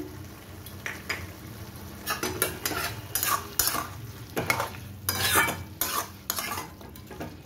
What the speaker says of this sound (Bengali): এবার এই মাংসটাকে ততক্ষণ কষাবো যতক্ষণ না এর জলটা সম্পূর্ণ মরে যাচ্ছে